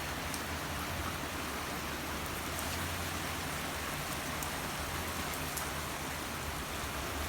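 Steady late-August thunderstorm rain in Sardinia, a dense continuous hiss of drops falling on surfaces outdoors, even and unbroken throughout with no voices.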